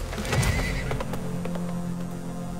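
Horse neighing and clip-clopping hooves in the PC game Weird West, a clear whinny near the start followed by a few hoof steps over a low game ambience.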